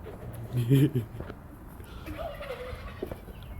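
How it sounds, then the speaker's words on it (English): Turkeys call out in a burst of loud, warbling gobbles, followed by fainter scattered calls against outdoor background noise. "The turkeys are really mouthy right now."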